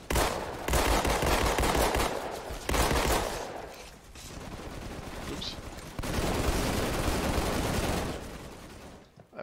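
Dual-wielded pistols firing in Halo 2 Anniversary on PC, heard as dense bursts of rapid game gunfire in several loud stretches amid other battle noise.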